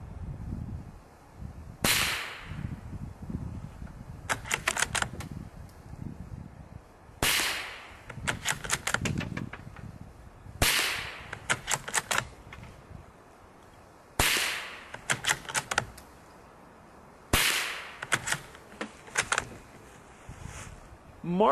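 Five sharp cracks from a .22 rifle with a long 22-inch barrel firing CCI Quiet semi-auto rounds outdoors, spaced a few seconds apart, each a short snap followed by brief rattling mechanical noise.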